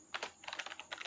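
Fingers tap a computer keyboard in a short, quick burst of crisp clicks, close and quiet, with no one talking.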